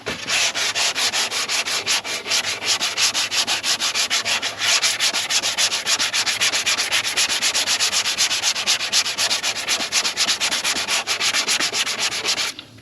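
Sanding block worked back and forth in crosshatch strokes over blue body filler on the plastic bumper of a 1995 NA Miata, a steady close, continuous rasping scrape with even rhythm throughout, no talking.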